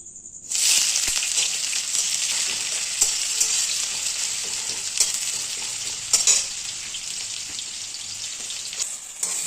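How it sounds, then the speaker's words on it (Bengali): Chicken and spice masala sautéing in a pan, a steady loud sizzle beginning half a second in and running throughout, with occasional scrapes and stirs, no talking. "দেখো চিকেনটা বসে মাংসটা কষে নিচ্ছি, মানে মশলাটা এখন কষে নিচ্ছি।"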